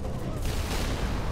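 Dense gunfire and explosions from a Halo Reach battle, a loud continuous roar of shots and blasts filling a brief moment, with a voice speaking underneath.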